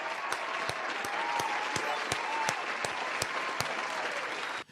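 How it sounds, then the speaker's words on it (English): Steady applause during a livestream, a continuous wash of clapping with evenly spaced sharp claps or knocks standing out above it, cutting off abruptly at the end. "So round of applause to you"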